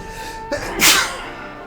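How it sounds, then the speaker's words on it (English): A single sharp sneeze bursts out close by, preceded by a brief intake of breath, over a quiet steady background hum. "Hopefully I remember to edit that sneeze out."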